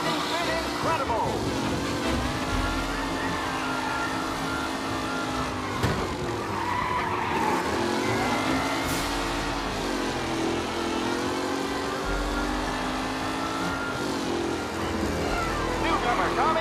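Race cars in the Mafia racing event skid and rev continuously, engines roaring loud and close with tire squeal throughout, while a commentator talks over the noise.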